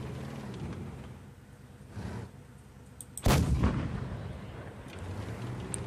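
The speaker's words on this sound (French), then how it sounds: "Les gars ils tirent des obus pour se trouver" Tank artillery shell firing in World of Tanks, one sharp loud boom with a rolling rumble afterward, set against a low engine drone and a fainter earlier thud.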